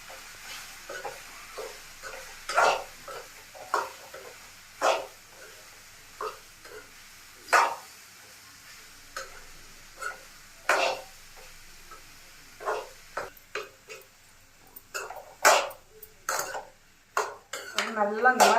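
Mushrooms are sautéed and stirred in a pan while cooking Pallipalayam-style, giving repeated sharp scrapes and clinks of a utensil against metal at an irregular pace, close, with soft background noise between strokes.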